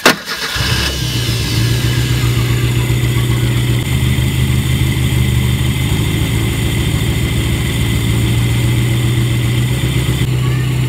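A car engine converted to run on a motorcycle CDI ignition with a distributor cranks briefly, catches, then settles into a steady, loud idle that runs on alone close by.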